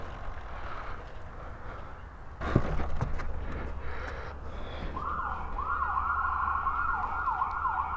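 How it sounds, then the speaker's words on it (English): A steady wailing siren rises in from around the midpoint and keeps cycling, heard over low rumbling traffic noise after a sudden thump. "that siren scared the shit out of me."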